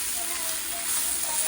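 Spice masala sizzles steadily in rendered goat fat, a close, even hiss of frying with no voices over it.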